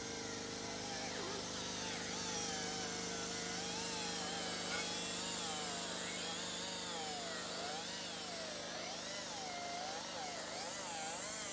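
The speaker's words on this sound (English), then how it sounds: "So what we're doing here is basically porting and polishing the insides so there's nothing that can affect the wave guides from working as efficient as possible." A power tool grinds steadily inside the metal waveguides of a plastic-to-fuel reactor, porting and polishing them with a continuous whining, shifting drone that stays loud and close throughout, with no talk over it.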